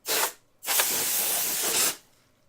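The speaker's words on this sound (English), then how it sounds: "the can of air gets a little cold while you're spraying it" Compressed air can spraying to dust a surface, a short hiss burst followed by a long, steady close spray of about a second and a half, loud and alone without talk.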